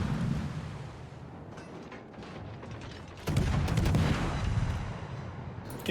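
Naval guns of the Tashkent destroyer fire in World of Warships, with repeated loud booming salvos over a constant rumbling battle din, with a sharp cluster of shots near the middle.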